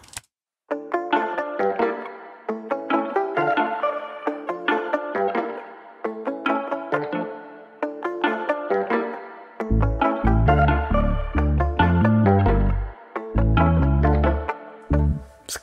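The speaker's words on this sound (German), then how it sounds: "Und dann kommen noch ein paar weitere Gitarren dazu," Several layered guitars pick out a bright, rhythmic melodic hook in short repeating phrases, and a deep bass joins partway through.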